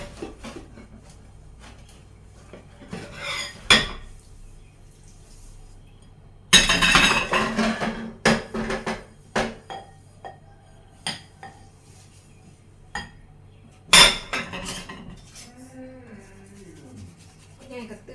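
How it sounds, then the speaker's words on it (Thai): Cups and dishes being washed in a home kitchen, with clinking crockery, rubbing and scrubbing, and occasional louder clattering bursts of pots and cutlery, close by, with a faint voice in the background. "มาล้างถ้วยในครัว"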